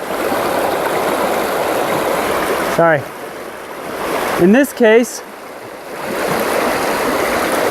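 A river rushes in a steady, close, loud wash of flowing water at a gold-sluicing spot, with a voice speaking briefly over it in the middle.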